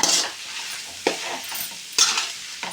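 Egg noodles are stirred and tossed in a hot pan, with several distinct scraping strokes and bursts of sizzle over a low background of frying, close and fairly loud.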